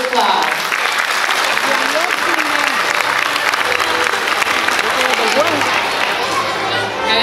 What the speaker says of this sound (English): Nice round of applause for Mr. Joseph Cloud.